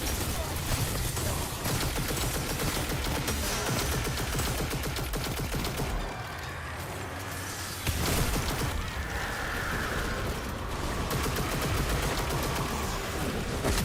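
Rapid, continuous rifle gunfire from Destiny 2: Shadowkeep fills the scene in dense bursts with mechanical clatter, briefly easing before resuming at full intensity.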